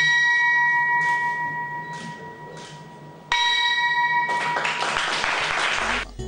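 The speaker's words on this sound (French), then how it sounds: "Lionel Zinsou, sonne ce mardi la cloche marquant la fermeture du marché à la Bourse régionale des valeurs mobilières BRVM" Closing bell rung at the BRVM regional stock exchange: several struck bell tones ring out with long sustained overtones, then a louder final strike is followed by a burst of applause from the people gathered.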